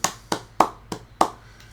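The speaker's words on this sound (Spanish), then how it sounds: "Un aplauso para Rembrandt" A few people clap for Rembrandt, five or six sharp, separate claps spaced about a third of a second apart, close and fairly loud in a quiet room.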